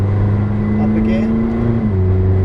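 A McLaren 620R's engine drones at steady revs on the Silverstone track, its pitch dropping sharply at a gear change, with a voice talking over it.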